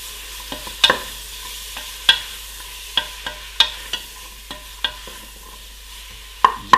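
Roughly chopped vegetables for tomato and red pepper soup stirred in a pan: a soft, steady sizzle punctuated by a dozen sharp, irregular clicks and scrapes of the utensil against the pan.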